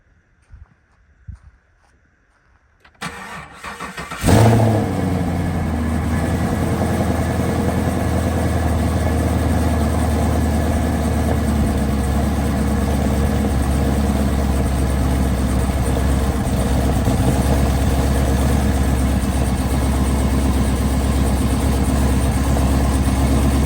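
After a tune-up, a 6th-generation Chevrolet Camaro SS V8 fires up following a few quiet handling noises, then settles into a loud, deep, steady idle that runs close and unbroken, with no talking.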